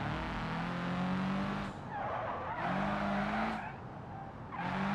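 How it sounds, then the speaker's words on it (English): A modded truck in Hirochi's game slides and skids, its engine droning loud as tires screech in three separate long squeals with short breaks between them. "this thing seems to slide a lot better compared to the last vehicle I did a mod showcase on"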